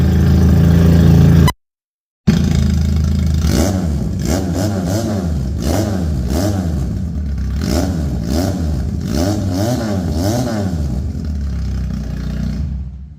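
A Chinese heavy bike with dual exhausts is revved repeatedly: a loud, close engine climbs and falls in a series of rising, wavering bursts over a steady idle, with a short break of silence near the start.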